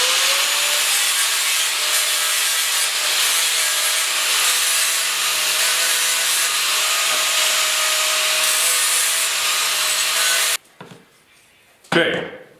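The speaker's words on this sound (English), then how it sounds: "if your little tack is sticking up, you got to give it a little grind" A power grinder runs steadily for about ten seconds, grinding a protruding tack flat on a plant table, then cuts off and leaves a couple of brief handling noises.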